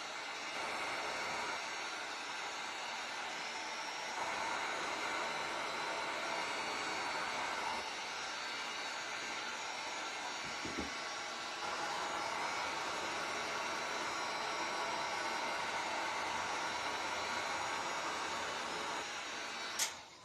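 A handheld dryer is used to dry polka-dot paint on a DIY tic-tac-toe board, making a steady, continuous whirring blow of air that runs unbroken at close range, with a small click as it switches off at the end.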